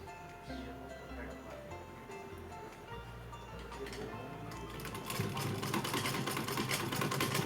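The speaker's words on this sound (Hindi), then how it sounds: "अब यहाँ मैं एक सिलाई लगा लेती हूँ इस पर।" A sewing machine stitching a small dress for a Laddu Gopal idol, running with a steady mechanical whir and rapid ticking that grows louder toward the end.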